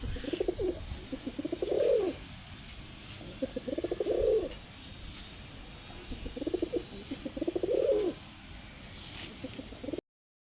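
Deep, rolling coos of Kaldam pigeons come in four repeated bursts, fairly close, over a steady low background hum.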